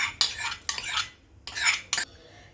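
Hot tempering is poured into boiling lentil water and stirred in the pot, heard as four short, close bursts of scraping and sizzling separated by brief pauses, with no talking.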